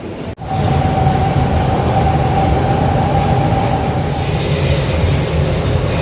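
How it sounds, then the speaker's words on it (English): Steady low rumble of a moving bus with road noise and a faint whine, continuous and fairly loud throughout, on a ride into town in Paphos, Cyprus. "And now another lovely bus ride back into town again."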